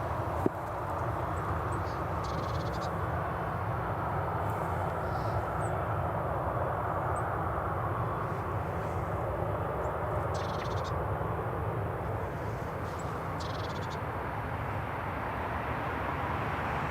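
A Loganair Embraer 145 jet lining up on the runway at Newcastle International Airport, its engines giving a steady, moderately loud broadband roar that holds evenly throughout.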